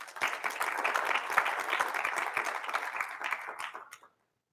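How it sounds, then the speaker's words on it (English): Church congregation clapping in sustained applause, a dense steady wash of many hands close and loud for about four seconds before stopping abruptly. "Give the Lord a clap offering."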